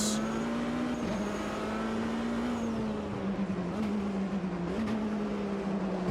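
Race car engines drone in Automobilista 2 at Daytona, with an Aston Martin, Corvette and Porsche among the field: a steady loud engine tone that dips and climbs with gear changes as other cars pass nearby.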